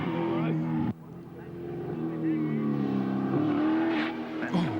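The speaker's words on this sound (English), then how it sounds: "Alan Grice at speed" Touring cars race at Bathurst with a loud engine droning and shifting pitch near at hand, under a commentator talking throughout.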